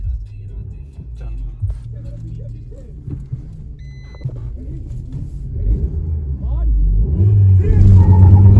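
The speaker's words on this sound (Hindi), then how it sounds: "दोनों गाड़ी बढ़िया उठी है" Maruti Baleno and Brezza cars launch off the line in a drag race, engines rumbling low and swelling louder toward the end as they accelerate, with voices talking over them.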